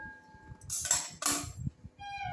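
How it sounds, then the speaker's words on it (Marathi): An iron kadhai is set down on a lit gas stove, giving two short bursts of metallic clanking and scraping, close and fairly quiet, against a faint low background hum. "आता कढई ठेवते आहे."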